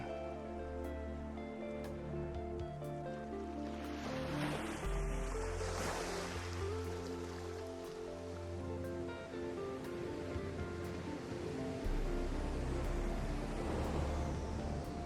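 Soft ocean surf from the video game Subverse washes continuously and faintly beneath a steady tonal musical drone, with no talk.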